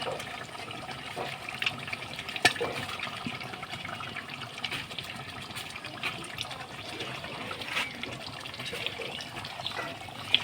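Water poured into a cooking pot while spices are rinsed in, a steady splashing trickle close by with small clinks, no talking.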